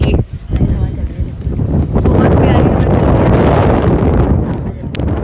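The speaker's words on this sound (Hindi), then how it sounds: "हवा चल रही है," Strong wind buffets the microphone beside the Ganges in Rishikesh, a loud, rumbling gusty roar that swells and holds for several seconds, with a person talking at the start.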